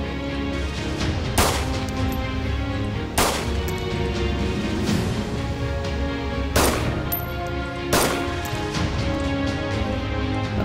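Gunshots from the video game DayZ: four sharp loud cracks spaced a couple of seconds apart over a steady game ambience, with no talk.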